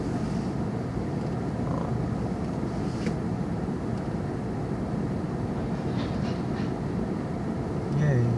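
A long train rolls past in a low, continuous rumble at moderate distance. Faint clanks are scattered through it, and a louder thump comes near the end.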